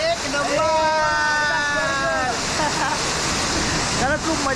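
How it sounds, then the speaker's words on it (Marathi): A small waterfall rushes in a steady, loud hiss of falling water, with voices and whooping or calling sounds layered over it. "एक नंबर असा धबधबा आहे हा छोटासा."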